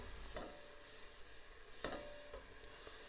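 Chicken sizzles in a pot of melted butter and toasted flour for soup as water goes in, a steady frying hiss with a few brief stirring scrapes, close and fairly quiet.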